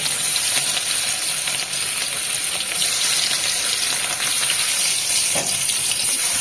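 Two pieces of katla fish frying in hot oil in a wok, a steady, loud, continuous sizzle throughout with faint crackles and no talk.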